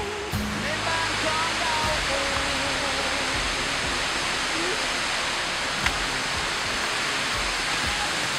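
A waterfall at Suan Luang Sirimaw camp roars as a loud, steady rush of falling water close by, with faint voices and footsteps in the background.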